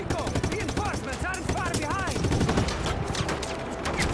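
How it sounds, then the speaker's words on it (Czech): Rapid bursts of gunfire crackle in dense volleys in Just Cause 3, with whooshing game effects and someone talking over the noise. "Kdo tu po mně střílí?"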